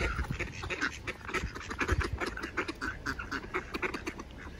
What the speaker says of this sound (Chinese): 这鸭子也太多了吧！